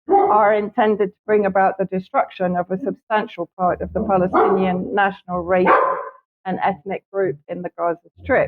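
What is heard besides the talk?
dog barking at neighbours on the roof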